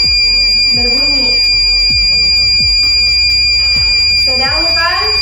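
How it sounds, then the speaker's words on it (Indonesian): A buzzer on a maritime transport speed-monitoring system sounds while the speed reading is above 100, giving a steady, loud high electronic tone that runs the whole time under continuous talk. "Jika nilai dari kecepatannya di atas 100, maka buzzer-nya akan berbunyi."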